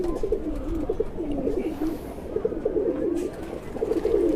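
A pair of green-eyed domestic pigeons cooing close by, repeated soft throaty rolling coos in a steady rhythm over a light background hum.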